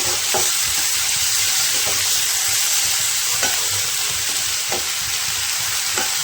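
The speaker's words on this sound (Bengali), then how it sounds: "ভালো করে মশলাটা কষিয়ে নেবো।" Ginger-garlic paste and spices being stir-fried in a pan for chickpea curry, a dense, constant sizzle with rhythmic scraping stirs every second or so, close and without speech.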